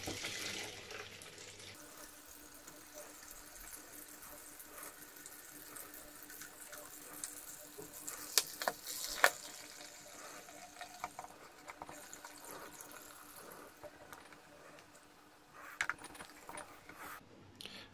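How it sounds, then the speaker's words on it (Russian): Homebrewed light ale is poured into a bottle, making a faint, continuous liquid trickle with a few light clinks and a brief louder splash toward the end. "наливаю практически почти полную бутылку"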